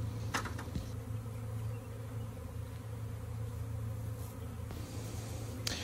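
Swarm of honeybees buzzing steadily near a box on a tarp during a swarm capture, a dense continuous drone with a few sharper passes close by, no talking.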